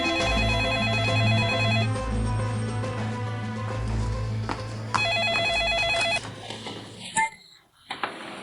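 A telephone rings in a repeating electronic pattern through an office scene, with a musical score underneath, then breaks off abruptly near the end.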